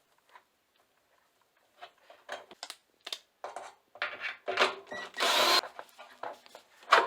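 Close, quiet work on the heater of a Bosch Maxx 5 washing machine, with a sparse run of small ratcheting clicks and metallic scrapes as a nut is unscrewed, turning into a busier series of short taps and rattles toward the end.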